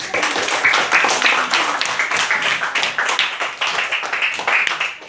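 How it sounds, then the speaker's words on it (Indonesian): A classroom of young learners in a microteaching English lesson bursts into steady, dense hand clapping, a continuous rattle of many hands close by that holds for several seconds with slight swells. "tepuk tangan"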